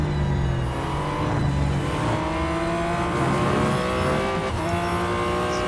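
Aston Martin Vulcan race car engine in Real Racing 3, a steady loud drone of engine tones with harmonics shifting as it revs and accelerates, continuous throughout with no talking.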